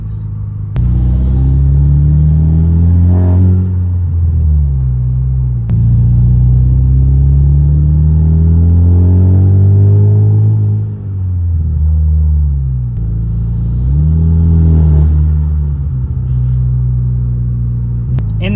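A car with gutted catalytic converters accelerates hard on a quiet road, its loud engine note climbing and falling through several rising pulls, with turbo spool and flutter close by and no talking.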